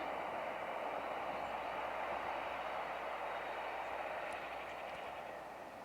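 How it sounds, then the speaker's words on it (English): A Whitby to Middlesbrough train rumbles steadily at a distance near Danby, a faint broad hiss of wheels on rails that slowly fades. "That is the Whitby to Middlesbrough train down there, just coming into Danby."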